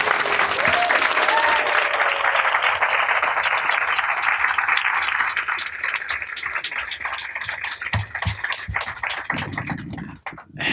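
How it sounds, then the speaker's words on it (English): Audience applause welcomes author Kiese Laymon at a book event, a dense sustained clapping that fills most of the stretch before thinning and fading near the end. "So please give a round of applause to Kiese Laymon."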